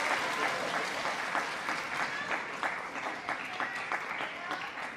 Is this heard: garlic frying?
no